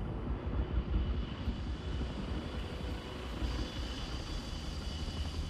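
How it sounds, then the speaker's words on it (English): A helicopter flying overhead in Marvel's Spider-Man 2, a steady broad rotor-and-engine rumble with a fluttering low pulse, loud and continuous for several seconds. "is that a chopper?"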